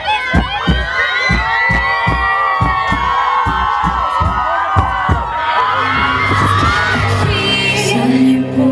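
A concert crowd greets a hip-hop artist on stage at a shop opening in Shymkent with loud applause, whoops and cheering. Rhythmic claps run throughout, and the cheering swells toward the end.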